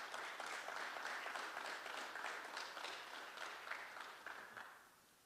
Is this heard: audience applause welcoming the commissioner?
yes